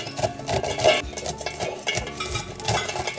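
Knife shaving fresh corn kernels off the cob into a bundt pan, giving a continuous close scraping and patter of kernels falling against the metal pan over a few seconds.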